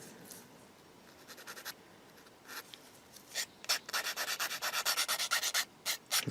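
A thin sanding stick deburrs the back edge of a plastic part on a 1/35 scale Takom Chieftain Mk10 model kit, giving faint scratchy rubbing at first, then a quick run of about a dozen close, rhythmic strokes.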